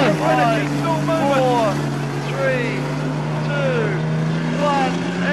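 Stock car racing engines from a team invitational race drone steadily and loudly, with pitch sweeps as cars pass, beneath continuous commentary over a public address.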